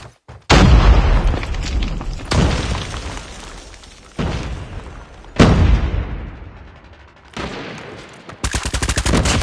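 Series of booming blasts and rapid gunfire in a Search & Destroy match of a video game shooter, a frag grenade explosion among them, with loud bursts recurring every couple of seconds and a fast rattling volley at the end, no talking.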